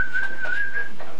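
A small child whistles at a second birthday party, one short breathy tone held near and loud for about a second.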